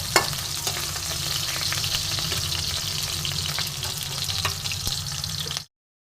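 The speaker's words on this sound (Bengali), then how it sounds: "আলুটা আমি একটু মাঝারিভাবে ভেজে নেব খুব বেশি লাল করবো না একটু হালকা ফ্রাই করব" Potatoes lightly frying in oil, a loud, steady, dense sizzle with occasional faint scrapes and pops, close up and uninterrupted by talk, cutting off abruptly at the end.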